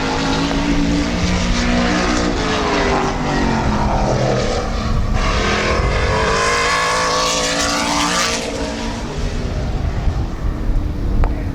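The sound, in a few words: number 18 race car lapping Midvale Speedway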